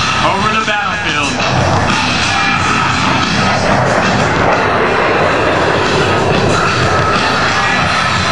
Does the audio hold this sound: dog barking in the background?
no